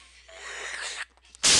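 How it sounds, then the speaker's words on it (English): A cartoon lemming in the Holiday Lemmings video game sneezes once in a loud, sudden burst at the end, following a rising, breathy build-up and a brief pause. "I feel a holiday sneeze coming on"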